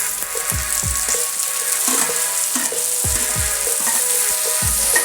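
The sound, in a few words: tomatoes sautéing with browned onions in pan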